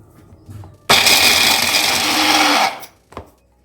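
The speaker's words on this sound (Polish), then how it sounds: "Teraz muszę zmielić orzechy, rozdrobnić je w malakserze" A food processor chops nuts in one loud, steady whirring burst of a couple of seconds, rising abruptly from near quiet and cutting off sharply, followed by a brief clack.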